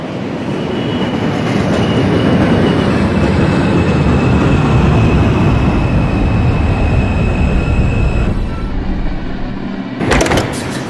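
A simulated R142 subway train on the Manhattan-bound 2 line in OpenBVE rolls steadily and loudly into 174th Street with rumbling wheels and a high whine, then slows with a brief clatter near the end.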